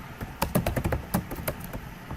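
Quick, irregular clicks of fingers typing on a computer keyboard, close and fairly crisp, a short burst of keystrokes with no voices.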